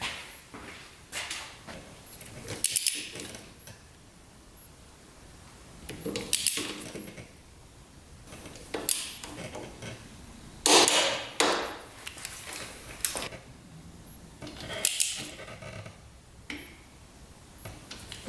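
Wrench work tightening the cylinder head bolts on a quad engine, torqued to spec in a crisscross pattern: scattered sharp metallic clicks and knocks at irregular intervals over a quiet background, close to the microphone.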